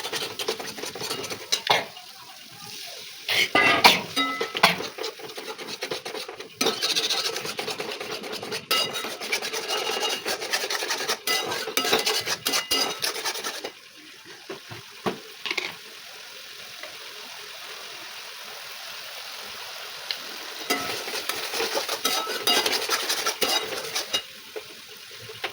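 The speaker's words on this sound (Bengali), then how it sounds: "আর এখানে একটু সামান্য চিনি আর একটু লবণ দিয়ে এটাকে ভালো করে ফেটে নেব" Yogurt with a little sugar and salt beaten in a bowl, a steady scraping, rasping whisk that runs continuously with brief pauses, close and fairly loud.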